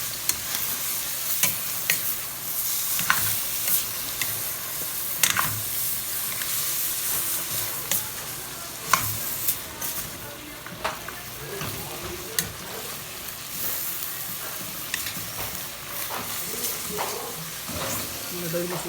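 Mixed vegetables stir-frying in a hot pan, with a continuous sizzle and hiss broken by repeated scraping and clanking strokes from a spatula, close up, with people talking faintly in the background.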